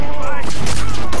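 Loud, close gunfire from a pistol in Assassin's Creed IV: Black Flag, blasts blurring into a dense burst of combat noise with a player's voice over it.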